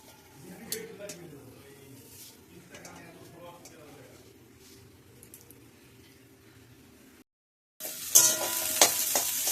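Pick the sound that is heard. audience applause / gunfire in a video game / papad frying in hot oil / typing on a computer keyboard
papad frying in hot oil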